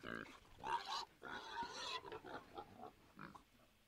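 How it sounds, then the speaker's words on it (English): Pigs oink and grunt in a sound effect, a rapid run of squealing, nasal calls that come in bursts, loud at first and then fading into shorter, quieter grunts. "The cancel pigs sound effect."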